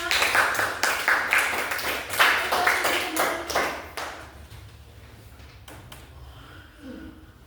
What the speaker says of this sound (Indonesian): Beri tepuk tangan dulu untuk kelompok 5